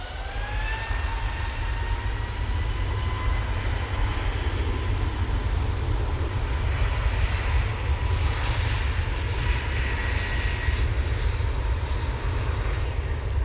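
A Qatar Airways Boeing 787 on final approach into Manchester from Doha, a loud, steady jet roar with a whining engine tone that rises in pitch early on, holding a continuous rumble throughout with no talk.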